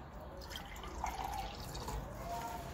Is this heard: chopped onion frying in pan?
no